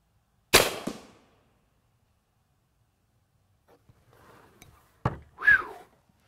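An AirForce Texan .45 air rifle fires a 255 grain slug with one loud, sharp crack that fades fast. Several seconds later come faint handling noises, then a short thump and a brief squeak.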